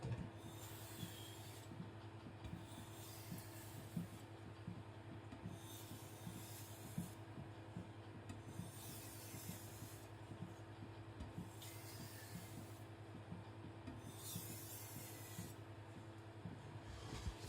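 A Tojiro white steel shirogami nakiri knife is drawn over a sharpening stone to set a micro bevel, making faint, repeated rasping strokes in a regular back-and-forth rhythm over a low steady hum.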